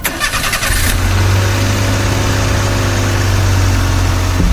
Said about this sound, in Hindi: अचानक उसकी गाड़ी की हेडलाइट्स ऑन हो गईं और इंजन स्टार्ट होने लगा।